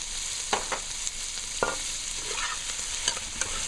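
Beef stew ingredients frying in a pot with black pepper, giving a soft steady sizzle broken by a few sharp stirring scrapes and clinks, fairly quiet and close, with no talking.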